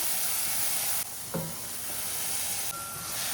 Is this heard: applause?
no